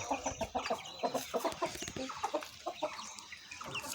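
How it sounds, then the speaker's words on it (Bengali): Young chickens cluck in rapid, repeated short bursts on a rooftop, close and busy, with a few brief pauses between runs. "এই যে বাচ্চা মুরগি, এটা ভিতরে বাচ্চা মুরগি"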